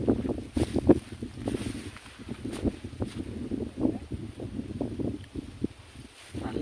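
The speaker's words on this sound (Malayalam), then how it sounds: "രക്ഷയില്ലാത്ത കാറ്റ്" Strong wind gusting across the top of Kurishu mala, a hilltop with eucalyptus trees and rocks, with a fairly quiet, uneven buffeting roar and no voices.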